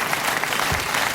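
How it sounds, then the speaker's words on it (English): Studio audience at a late-night talk show applauding in a dense, even burst of clapping, loud and continuous for the whole moment with no voices over it. "Thank you for applauding my shameless plug."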